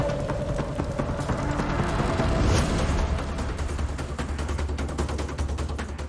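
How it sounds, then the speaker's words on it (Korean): Sparks and flames burst from a burning transparent box set in a model gas station, a dense continuous crackling roar with rapid popping bursts that swells near the middle and stays loud throughout. "스파크가 발생하는 동시에 불꽃을 뿜어내고 상자 전체로 불길이 퍼졌다"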